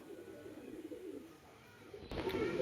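Madras pigeons coo faintly and steadily in the background, low and murmuring, with a brief clatter near the end.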